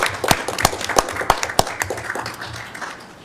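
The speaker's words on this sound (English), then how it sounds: "I think that deserves a round of applause." A small group at a city council meeting clapping, with distinct sharp claps standing out over a softer spatter that gradually thins and fades.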